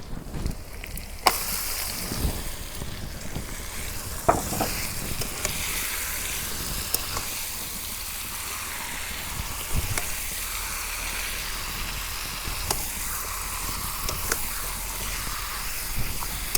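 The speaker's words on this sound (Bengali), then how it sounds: "মাংস যে আমি মাখাইয়া এই যে ডাইখা থইছিলাম এখান দিয়ে দিই।" Marinated broiler chicken dropped into hot oil for a spicy braise, giving a steady, loud hiss of sizzling throughout, with occasional knocks and scrapes of stirring.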